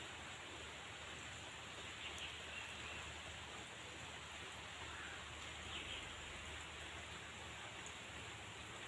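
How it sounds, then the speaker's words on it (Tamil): Rain falls outdoors as a faint, even hiss that holds steady throughout, with no voices over it. "பாருங்கள், மழை விழுந்துக்கிட்டு இருக்குது."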